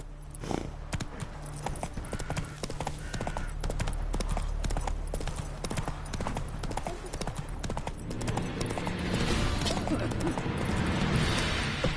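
Roach, a horse in The Witcher video game, gallops with rapid, loud hoofbeats in steady rhythm, building into a denser rumble of movement toward the end, while a voice calls out over it.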